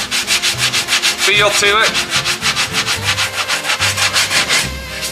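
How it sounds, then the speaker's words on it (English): Close, rhythmic strokes of 80-grit sandpaper rubbed by hand across a plastic car bumper cover, a rapid steady scratching back and forth with a brief spoken phrase partway through. "I'm not sanding very hard because this is 80 grit and I don't want to gouge the paint or the plastic anymore."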